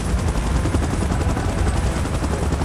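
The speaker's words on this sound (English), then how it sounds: "Chopper in position." Loud, throbbing helicopter rotor and engine roar in the game PUBG Mobile, constant and close, with a rapid rattling pulse and no voice.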